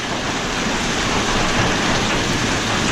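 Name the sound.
rain and hail falling during a storm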